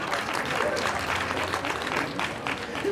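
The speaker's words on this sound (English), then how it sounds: "So a big round of applause to our artists right now." Steady, dense applause from an audience honouring artists at a city wine tasting and art expo in Linden, a continuous wash of many hands clapping at moderate loudness.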